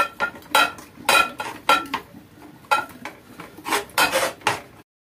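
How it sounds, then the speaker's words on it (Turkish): Peppers being packed by hand into glass jars, giving a series of close clinks, rubs and scrapes of produce against glass in irregular bursts, with no voices. "Düzgün bir şekilde biberleri kavanozlara bakın yerleştirelim"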